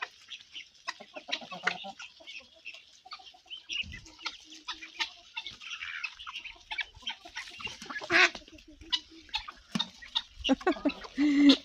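Ducks feed nearby with many short, soft quacks and clucky calls scattered irregularly over steady background hiss.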